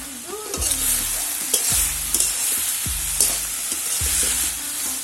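Banana stem fritters mixed with green chilli and onion sizzle steadily in hot oil, with repeated scraping and stirring strokes of a utensil against the pan at a regular pace.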